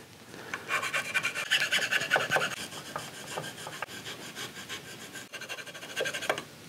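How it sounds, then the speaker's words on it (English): A hand file rasps at wood shavings in the inletting of a Traditions St. Louis Hawken rifle stock, with close, rhythmic scraping strokes repeated over several seconds. "So I'm gonna go through with our file and just get those removed and blow them out."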